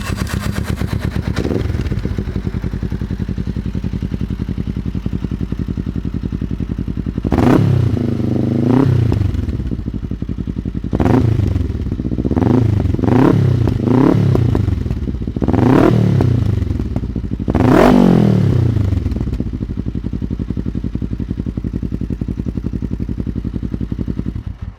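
A Kawasaki ER5 motorcycle with a Fuel Exhaust system runs steadily at idle, punctuated by several loud throttle blips that rise and fall in sharp bursts, close and alone.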